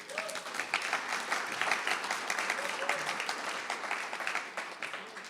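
A crowd at a talk applauds steadily for a retired National Park Service employee, even clapping throughout with faint tonal sounds over it, moderately distant.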